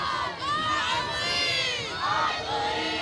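The Pella Christian student section cheers loudly at a high school football game, a dense, close crowd of young voices shouting and chanting in rising and falling swells.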